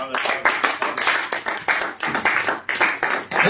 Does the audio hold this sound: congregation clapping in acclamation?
yes